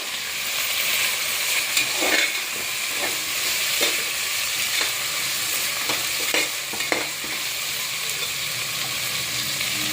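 Soaked peas fry in a pan for tomato bath, giving a steady sizzle with occasional stirring scrapes and clicks, fairly close and with no talk over it.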